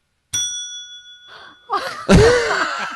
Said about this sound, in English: It was an old service bell.